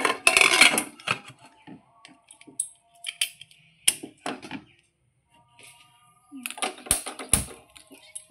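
A pressure cooker lid is fitted and shut on a pot of taro with a little water: a burst of metallic rattling and clanks up close, then scattered clicks and knocks with quiet gaps, and another clatter near the end.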